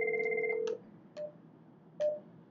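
A Cisco IP phone plays a dial tone and then two short dialing beeps, close and clear with no talk.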